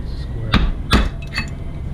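Two solid hammer strikes on a punch knock out a clutch pedal bushing, followed by a lighter metallic tap, close and sharp with a brief ring after each blow.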